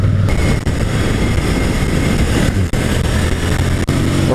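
Motorcycle engine at Interlagos circuit during a riding course, loud and continuous with a steady high-revving roar and brief dips as the rider shifts.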